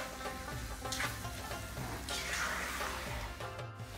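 Chopped onion frying in a pan, a steady soft sizzle and crackle throughout with a faint background tone and occasional light stirring scrapes.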